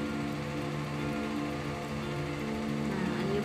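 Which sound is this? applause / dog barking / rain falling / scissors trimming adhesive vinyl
rain falling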